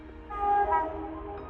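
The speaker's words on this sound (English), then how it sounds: "There is a train coming." A low, steady rumble of a train passing near a canal towpath, with a brief tonal horn-like note rising over the droning engine.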